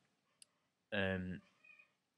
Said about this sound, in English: Oh, hello. It's the cat.